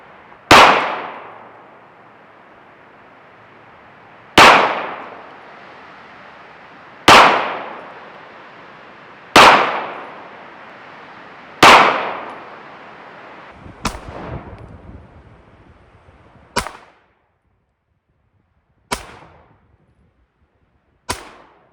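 A Smith & Wesson M&P 2.0 Metal pistol with a red-dot optic fires its first shots out of the box: loud, sharp single reports spaced a few seconds apart, each ringing out briefly, with a couple of fainter, quicker shots near the end.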